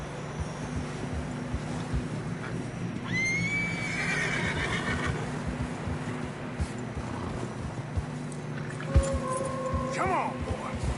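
Horses whinny and neigh in snowy mountain terrain in Red Dead Redemption 2, a couple of shrill calls rising over hoof clops, wind and a low steady game hum, with voices talking nearby.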